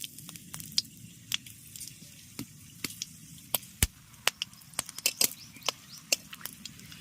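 Whole bay leaf, dried chilli, clove, cardamom and cinnamon spitting in hot mustard oil in a kadai, giving a faint steady sizzle broken by sharp, scattered pops and crackles, with no voices.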